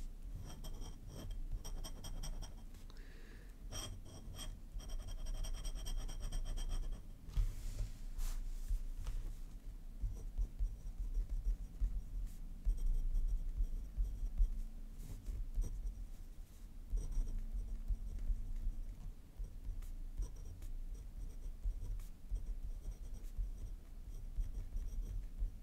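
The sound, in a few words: glass dip pen scratching on paper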